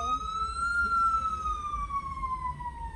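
An emergency vehicle siren wails loudly in traffic, a single long tone sliding slowly up then down over a low road rumble, with no talking heard.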